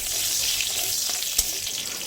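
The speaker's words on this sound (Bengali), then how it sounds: "ফোড়নে দিয়ে দিচ্ছি 1/2 চা চামচ গোটা জিরা।" Whole cumin seeds sizzle in a little hot oil in a kadai, a steady close hiss of frying spices filling the short moment, with one small clack near the middle.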